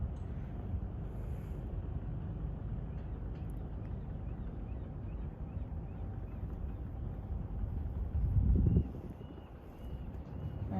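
Outboard motor on a sailboat on Hood Canal starting up with a brief low roar around the eighth second, amid steady wind and engine rumble with no talk.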